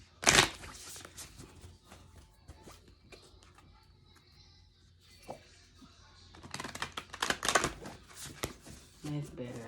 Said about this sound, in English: I say this every time I shuffle these cards